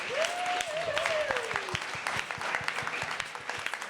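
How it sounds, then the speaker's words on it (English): An audience at a panel event applauds, giving a dense, steady patter of many hands clapping for several seconds, with a brief tonal sound near the start and a few voices faintly underneath. "So let's give them a round of applause."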